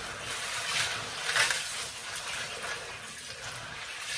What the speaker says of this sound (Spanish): Así que le voy a poner agua ahorita